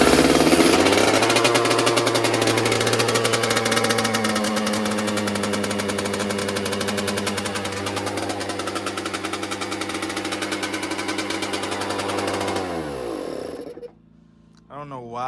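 A Kawasaki KX85 dirt bike, freshly given a top end rebuild, idles noticeably high with a loud, steady, buzzy two-stroke drone close by, then the revs drop and the engine cuts out near the end.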